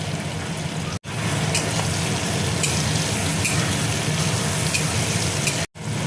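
Bottle gourd pieces with turmeric fry in an oiled pan, giving a loud, continuous sizzle and hiss that holds steady throughout, cut off abruptly twice.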